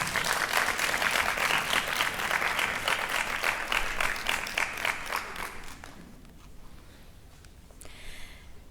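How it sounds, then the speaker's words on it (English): Audience at a University of Pretoria law faculty graduation ceremony applauds steadily, a dense clapping crowd that fades away over the last few seconds. "give them a hand of applause"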